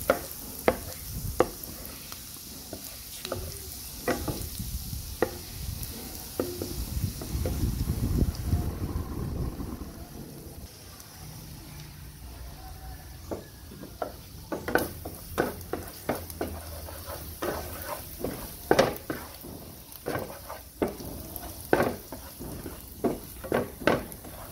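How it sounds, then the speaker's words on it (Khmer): Garlic frying and sizzling in a pan, a steady hiss with frequent clicking spatters and scraping stirs throughout, loud and close. "យើងលីងខ្ទឹមឲ្យឈ្ងុយ"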